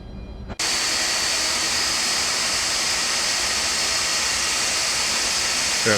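A Boeing 747-200 Classic jet engine spools up to a loud, steady roar after a brief quieter lead-in, the broadband whine holding constant and close as the engine settles to running.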